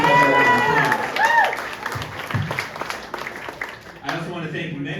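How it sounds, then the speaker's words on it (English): Crowd applause and some cheering at a campaign rally in Green Bay, voters clapping in a packed room while voices rise over the noise; the clapping swells and fades. "So give yourself a round of applause."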